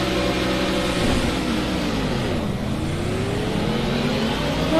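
Several racing car engines rev together on the starting grid of a racing game, a dense steady roar with pitch sweeping down and back up, loud and continuous, with no talking.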